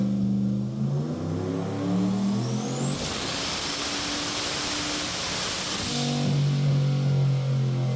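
A rod and piston V8 with Summit pistons and cam revs hard on a dyno, a loud continuous engine roar climbing in pitch, swelling into a dense high-rpm blast mid-clip, then falling back to a lumpy idle with no voices.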